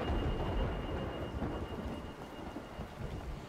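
Thunder from lightning in the video game A Way Out: a loud low rumble opening strongly and slowly fading, over a steady wash of rain.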